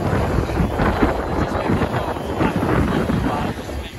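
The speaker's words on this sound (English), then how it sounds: "it is a very strong wind" Strong wind buffets the microphone outdoors on a farm, a loud, continuous rumbling roar with gusty surges that barely eases toward the end, with a voice partly buried beneath it.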